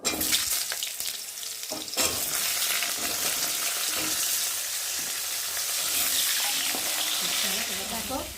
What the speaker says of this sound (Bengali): আলুটা ভালো করে ভেজে নেব